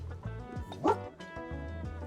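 A cartoon dog in the cozy game Tiny Bookshop answers being petted with a short, close burst of happy yips and a bow-wow, loud and bright over soft background music.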